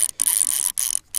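Fishing reel drag clicking rapidly while fighting a musky in Kentucky, two bursts of fast ratcheting buzz separated by brief gaps, close and loud with no talk.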